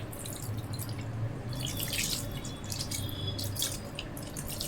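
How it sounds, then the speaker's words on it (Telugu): Water poured steadily into a bowl of marinated chicken for tahari biryani, a continuous splashing trickle close by, mid-level and unbroken for several seconds with no voices. "ఒక పావు లీటర్ వాటర్ పోస్తున్నానండి"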